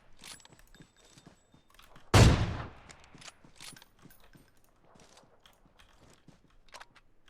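One loud, sharp gunshot in PUBG Mobile cracks out with a decaying tail, set among faint clicks and small mechanical handling noises, with no talking.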